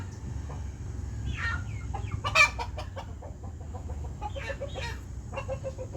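A hen with unusually long spurs clucks close by in a farmyard, irregular bursts of clucks and short squawks over a low background rumble.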